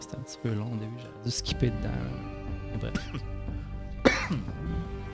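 Several rough coughs and throat-clearing bursts over a background hum, with a short spoken word mixed in.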